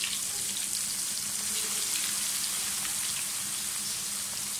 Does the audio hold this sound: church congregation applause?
no